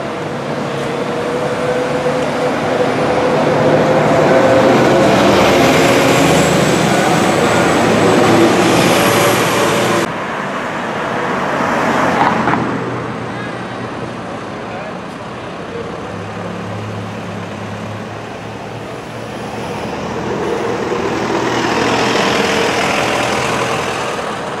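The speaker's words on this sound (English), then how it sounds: "There goes one of the Telford buses, operating the 19, 33 to 10." Telford buses pass and idle on a Shrewsbury town street, a loud, continuous engine rumble and traffic roar that swells as vehicles go by, with a sharp shift midway.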